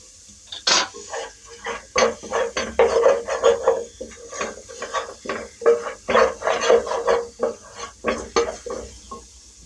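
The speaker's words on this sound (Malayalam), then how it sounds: "ഇപ്പൊ ഒരു 10 മിനിറ്റ് ഞാൻ വഴറ്റിയിട്ടുണ്ട്." Ginger, garlic and green chilli sautéed in prawn oil for a prawn biryani, with a spatula scraping and stirring steadily against the pan in quick, uneven strokes, close and fairly loud with no talking.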